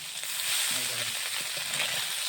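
Fish frying in a wok sizzles steadily and close up with a bright crackling hiss as the pieces are flipped, while a faint voice murmurs underneath.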